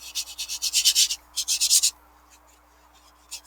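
A dry brush scratches quick grass strokes onto watercolor paper, close-up rhythmic rasping in two rapid bursts of about eight strokes each, then a brief faint scrape, with no voices.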